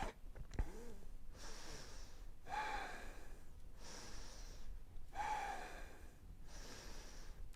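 Slow, deep yoga breaths during a grounding pose, with long inhales and exhales alternating in a steady rhythm of about four cycles, close and fairly quiet, with no talking.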